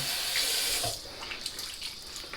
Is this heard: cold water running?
yes